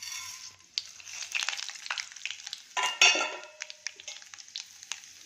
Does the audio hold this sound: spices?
yes